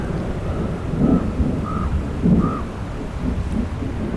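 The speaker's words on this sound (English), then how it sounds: "And a thunderstorm." Low rumbling thunder rolls through a steady wash of rain beside a creek, with a few bird calls, including a raven and a Swainson's thrush, rising faintly above.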